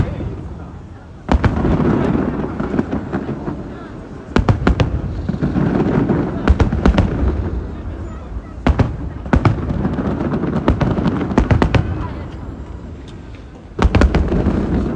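New Year fireworks going off outdoors, a series of sharp loud bangs and clustered bursts over a continuous roar of crackling and rumbling, with voices mixed into the din.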